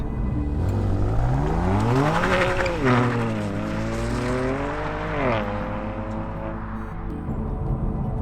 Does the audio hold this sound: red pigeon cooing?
no